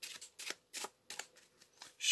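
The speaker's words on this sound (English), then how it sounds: "Shuffle the Eight of Hearts to second to bottom." Playing cards are shuffled by hand at close range on a card mat, a series of quick papery riffles and slides in uneven bursts with short pauses between.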